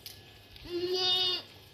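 One clear, drawn-out bleat from a Rajanpuri Ablak goat on a goat farm, close and loud against low background noise.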